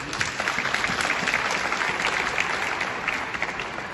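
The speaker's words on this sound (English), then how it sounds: "let's give Swakopmund a round of applause" Steady applause from an audience at an entrepreneurship event, a continuous, moderately loud patter of many hands clapping throughout.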